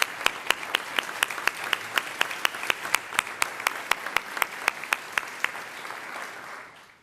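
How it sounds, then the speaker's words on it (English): Commencement ceremony audience applause, a broad steady wash of clapping from a large crowd with sharp individual claps standing out near the front, gradually fading at the end. "Let's give them another round of applause."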